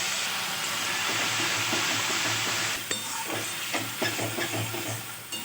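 Chili prawn sauces fry on a high flame with a steady, loud sizzle and hiss throughout, joined partway by the scrape and clatter of stirring in the pan.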